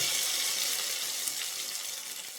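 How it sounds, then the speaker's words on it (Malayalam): Hot fried-onion tempering poured into a meat curry gives a loud, continuous bright hiss of sizzling that holds steady for a couple of seconds without any talk. "എന്നിട്ട് ഈ വറവെടുത്തിട്ട് ഈ കറിയിലേക്ക് ഒഴിക്കും"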